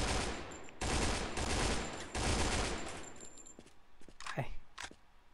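Gunfire in the video game Point Blank: Strike comes as loud, dense bursts of rapid automatic shots with short gaps, then fades to quieter clicks and a couple of sharp swooping effects. A voice talks faintly under it.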